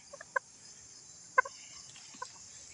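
A backyard chicken in a home garden gives a few short, soft clucks spaced over a couple of seconds, moderately close against a quiet outdoor background.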